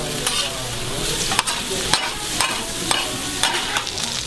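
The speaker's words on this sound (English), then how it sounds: "it is still sizzling in its oil" Pork belly sizzles loudly in oil on a hot stone with a constant crackling hiss, and sharp pops and stirring scrapes come about every half second.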